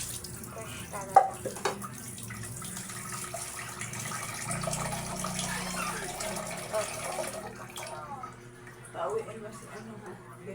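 Running tap water as something is washed and rinsed under it, a steady splashing hiss with a fuller stretch in the middle, while voices talk over it.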